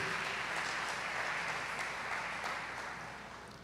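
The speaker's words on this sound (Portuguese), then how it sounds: "Você pode aplaudir ele bem forte em nome de Jesus?" A church congregation at a worship service applauds steadily, a dense, even wash of many hands clapping that carries on without pause and gently fades toward the end.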